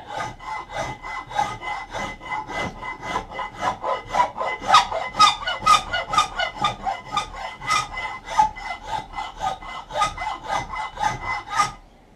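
A steel file works down a wooden hatchet handle in steady back-and-forth strokes, a close, rhythmic rasping scrape repeating for the whole stretch with no talking.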